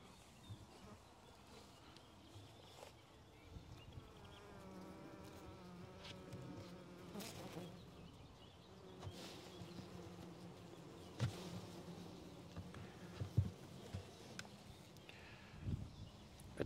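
Honeybees in a Layens hive hum in a low, even drone close by while frames of brood are inspected, with soft handling clicks and knocks scattered throughout and no voices.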